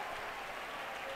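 A church congregation at a Sunday service claps briefly, a dense, even burst of applause with no voices on top.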